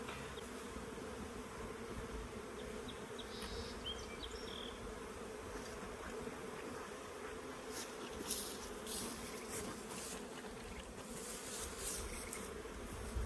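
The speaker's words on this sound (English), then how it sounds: "As you can see, this nook is full of bees." Dense, steady buzzing of many honey bees crowded inside a nuc box, a continuous close hum with brief louder bursts as individual bees pass near.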